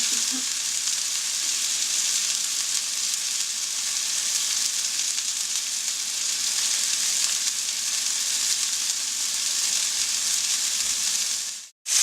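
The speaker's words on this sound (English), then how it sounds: "Okay, so they've been seared on both sides." Chicken pieces for teriyaki sear in a pan with a dense, unbroken sizzle that stays close and loud for the whole stretch, cutting out briefly near the end; no one speaks.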